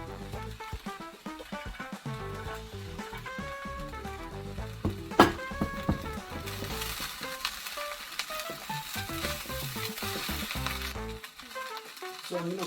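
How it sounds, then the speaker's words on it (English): Liver fries on very high heat for Nigerian fried rice. A steady, fairly quiet sizzle runs throughout, with occasional stirring scrapes and one sharp clatter near the middle, and no one talking. "I'm gonna let this fry on very high heat. So right now, I'm gonna go in with the liver."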